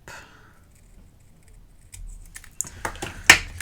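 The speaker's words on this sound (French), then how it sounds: "Je viens plier." A paper card being folded, with soft faint rustling at first followed by a series of sharp, close crinkles and crisp taps as the paper is creased, the last one loudest.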